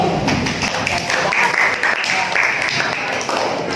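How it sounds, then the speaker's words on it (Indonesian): Classroom applause breaks out after a student group presents in an Indonesian language lesson, a steady wash of many hands clapping at moderate loudness with voices mixed in. "Kita kasih aplaus dulu."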